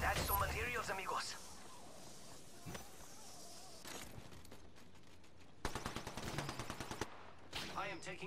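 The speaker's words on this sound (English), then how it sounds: "Listen up, I'm getting shot at." Gunfire in the Apex Legends video game: sharp bursts of rapid shots crack out in clusters against quieter stretches, alongside a voice talking.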